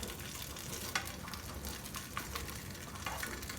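An egg sandwich sizzles steadily in a pan, a soft continuous frying hiss with a few small pops, fairly quiet and alone.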